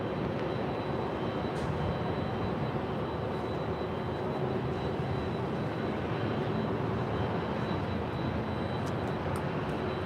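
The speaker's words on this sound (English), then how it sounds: "this is Delta Connection SkyWest 4081 coming in from Oakland on an E175LR" Delta Connection SkyWest Embraer E175LR regional jet arriving at LAX from Oakland, a steady broadband jet roar that holds loud and even throughout without any voices.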